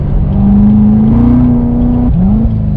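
A 2017 C7 Corvette Grand Sport's engine pulls loud from inside the cabin, its tone rising steadily under throttle before dropping sharply at a gear change and climbing again.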